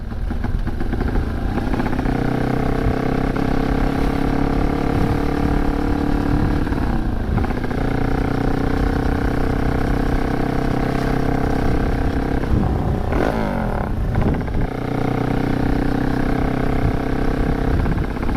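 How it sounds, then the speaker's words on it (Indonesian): A cold motorcycle engine on a GL-style bike runs for a long stretch, a loud continuous drone that sputters and stumbles under the throttle, with brief revving surges and dips. "Nek belum panas emang begitu ya, berdet-berdet kalau digas langsung"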